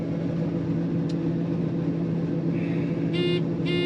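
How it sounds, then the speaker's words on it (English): Blue truck driving across a slough during a soybean harvest, a steady close engine drone with low rumble throughout, and a few brief high tonal whines near the end. "we are going to go jump in the blue truck here with Don and get across"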